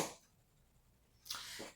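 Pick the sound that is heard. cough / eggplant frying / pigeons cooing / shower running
cough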